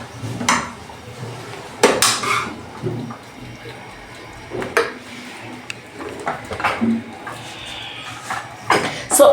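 Dishes and a spoon clink and clatter in a home kitchen while vegetable rice is cooked, irregular sharp knocks and scrapes over a low background hum, with faint voice-like sounds at times.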